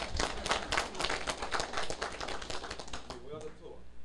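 An audience at a lecture on Taiwan's civil government and international relations claps in a dense, steady patter of many hands for about three seconds, with talking running underneath.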